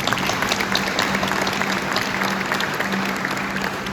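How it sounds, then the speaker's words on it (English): Steady applause from a crowd at a military change of command ceremony, a dense wash of clapping that holds at an even level for several seconds without pause. "Round of applause, please, for that national anthem."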